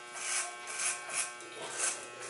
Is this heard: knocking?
no